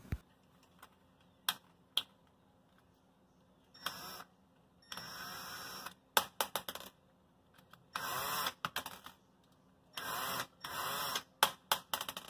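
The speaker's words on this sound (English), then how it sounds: "we're going to remove the 3 screws out of there" Screws being backed out of a range's terminal block by hand with a screwdriver, a series of short metallic clicks and scraping bursts in irregular clusters, close up, with no voices.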